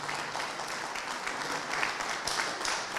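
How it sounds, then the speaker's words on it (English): An audience at a chemical engineering society meeting applauds student scholarship winners, a steady wash of many hands clapping, moderately loud and sustained across the whole span, with no talk over it. "Big round of applause for all our scholars"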